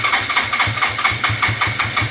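A Suzuki DR200S motorcycle engine, a bike put out for scrap, cranks over on the starter in a fast, even, rhythmic chugging. It is loud and close, with no voices over it.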